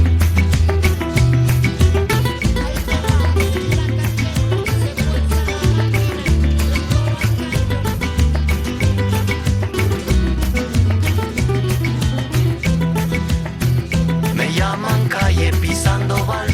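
A song from a film soundtrack plays loudly and continuously, with a steady beat, bass line and melody and no talk over it.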